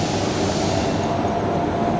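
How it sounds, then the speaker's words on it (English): Extruder of a filter tester running up, a steady, loud mechanical drone with a constant high-pitched whine held evenly throughout. "and then you start the extruder, and then you go up again to 40 RPM"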